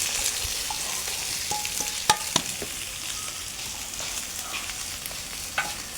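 Chopped onion added to hot oil with roasted cumin, cooking for a chickpea and green bean curry, gives a steady close sizzle and hiss, broken by a few sharp clicks and scrapes of stirring.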